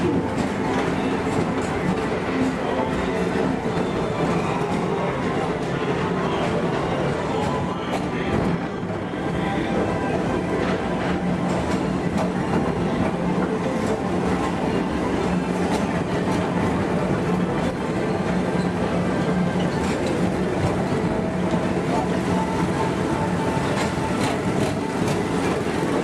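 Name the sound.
Tomorrowland Transit Authority PeopleMover ride vehicles moving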